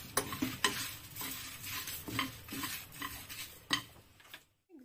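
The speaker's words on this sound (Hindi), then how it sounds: "ड्राई चिलीज ले लीजिएगा और 4-5 लौंग, 4-5 काली मिर्चें और 3-4 सफेद इलायची लेके आप रोस्ट कर लीजिएगा" Dry red chilies, cloves, black pepper and white cardamom roast in a dry pan and are stirred with a utensil. Soft scraping and clinking strokes repeat every half second or so, fairly faint, and then stop.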